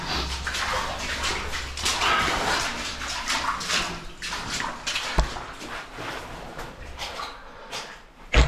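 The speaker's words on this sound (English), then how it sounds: "Water continues to flow on the ground." Water runs along the floor of the Hendrie River water cave, a steady broadband rush and splash that stays fairly loud throughout, with a few sharper knocks and a bump near the end.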